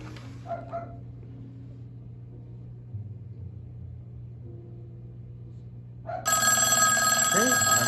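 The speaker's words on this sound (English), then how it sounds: "My wife is going to call me on WhatsApp and then we'll see it ring." A Bluetooth rotary telephone powered by a 12-volt supply rings loudly for an incoming WhatsApp call, a sustained bright bell tone starting abruptly after several seconds of quiet room rumble.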